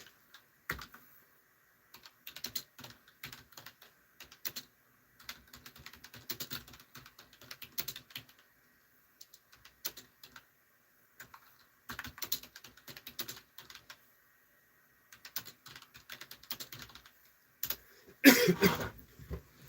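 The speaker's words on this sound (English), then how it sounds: "I'm going to type them in the comment." Typing on a computer keyboard in bursts of quick clicks separated by pauses, close and fairly quiet, with one louder clatter near the end.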